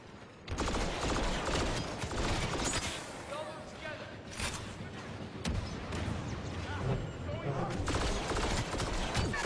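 Rapid bursts of video game gunfire crackle throughout, mixed with dense battle noise and shouting close in the mix.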